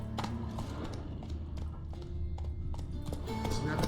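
Hooves of Roach, a horse in The Witcher 3 video game, clip-clop steadily and fairly close over a low rumbling game ambience, with a few sharper knocks and a faint voice in the background.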